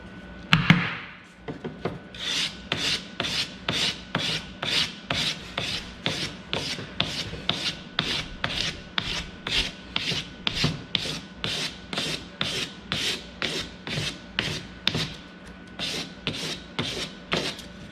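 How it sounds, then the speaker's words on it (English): A metal casting being hand sanded with a finer grit of sandpaper: a long, steady run of rhythmic rasping strokes, close and even in pace, roughly two per second, continuing alone with no talk. "my next grit up after my aggressive sandpaper"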